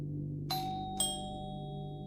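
A doorbell sounds a clear two-tone ding-dong, the two chimes half a second apart and ringing out over a faint steady hum.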